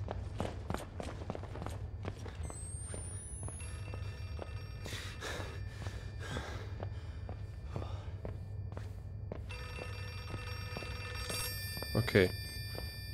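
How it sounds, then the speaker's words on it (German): In the horror game Outlast 2, a telephone keeps ringing in repeated tonal bursts amid footsteps and dark ambient noise, with a voice talking over it. "das Telefon klingelt immer noch"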